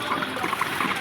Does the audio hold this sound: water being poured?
yes